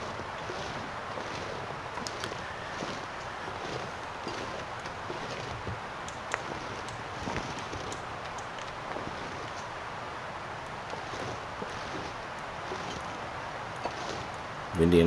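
Wind blows steadily on a cold, exposed landscape in the survival game The Long Dark, a continuous broadband rush with faint ticks and scattered small sounds, no speech.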